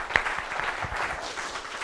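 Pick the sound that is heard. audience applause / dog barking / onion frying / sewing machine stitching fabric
audience applause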